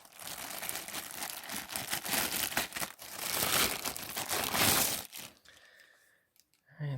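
The plastic bag holding a Hart impact driver kit crinkles and rustles at close range in uneven bursts during unboxing, then tails off into near quiet.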